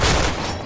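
A burst of rapid gunfire in a video game, loud and dense for the whole short stretch, fading slightly toward the end, with no speech over it.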